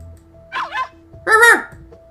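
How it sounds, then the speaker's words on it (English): A dog named Pee-Pee in the video game Ever 17 gives a loud, short bark, followed by a second, fuller yelp-like bark a moment later, with quiet background between them. "Pee-Pee looked at Hokuto and me and gave a loud bark."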